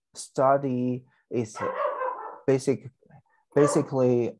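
A pet dog barks in a few sharp, separate bursts at home during an online academic session, with a speaker's voice mixed in between the barks.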